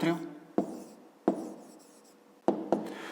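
A pen scratches out a math answer on paper in short bursts, four or five quick strokes with soft scraping between, close by, while a person talks over it.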